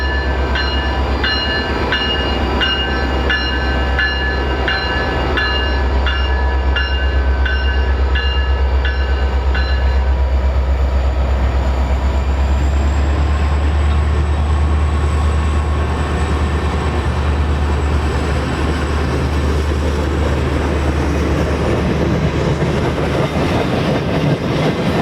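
BNSF southbound freight trains roll slowly by nearby in a steady loud rumble with a heavy low drone, while a repeating horn-like tone pattern sounds for the first ten seconds before fading into continuous wheel noise.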